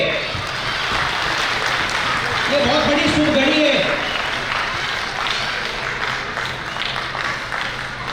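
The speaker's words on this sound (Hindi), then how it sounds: "कृपया ताली बजाइए।" A seated ceremony crowd at a community gathering claps in a broad wash of applause while someone speaks over a loudspeaker, his voice riding above the steady patter.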